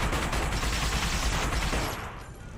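Gunshots in The Punisher game, a dense continuous burst of rapid firing, loud and close, tapering off near the end with no talking.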